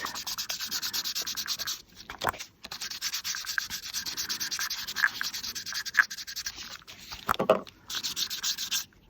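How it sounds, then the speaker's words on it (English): Light rubbing of an ink pad or applicator along the edges of paper collage pieces on a tag, a steady dry scratchy scuffing in repeated strokes with brief pauses, close and alone without talk. "you could even just lightly rub and get some of the edges of your collage pieces"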